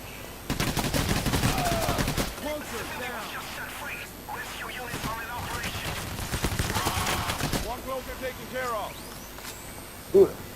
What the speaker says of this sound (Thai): เดี๋ยวเดี๋ยวเดี๋ยวเสียงกระสุนมา